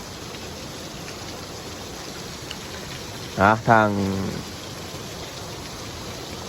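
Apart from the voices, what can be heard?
rain falling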